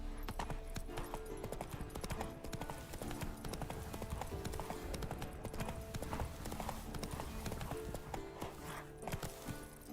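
Roach, the horse in Witcher 3, gallops with fast, steady hoofbeats clip-clopping up close, mixed into a dense bed of game sound and music, with no talk.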